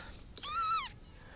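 Japanese Bobtail kitten giving a single thin, high meow close by, about half a second long, in a quiet room with no talk.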